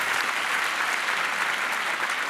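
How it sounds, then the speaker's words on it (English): Audience applause for World War II veterans at a salute to American heroes ceremony: a dense, even wash of clapping from a large crowd, continuous and loud throughout. "Give them all a round of applause, would you please?"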